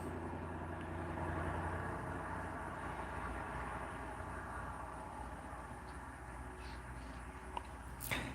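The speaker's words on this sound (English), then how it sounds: "Everyone has a loud car that drives down the street." A loud car drives down a street, a steady low engine rumble that swells early and then fades slowly, with a brief click near the end.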